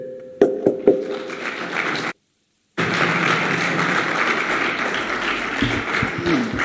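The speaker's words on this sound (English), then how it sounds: "please join me in expressing our warmest congratulations to the 2021 winner, Ms. Maria Ressa, with a big round of applause" Audience applause for 2021 winner Maria Ressa at the UNESCO/Guillermo Cano World Press Freedom Prize award ceremony. A few sharp taps come first, then a short silence, then a steady, dense wash of clapping that stays loud to the end.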